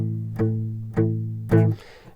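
Three evenly spaced strums on a guitar, each chord ringing out before the next, in a steady straight rhythm with no talking.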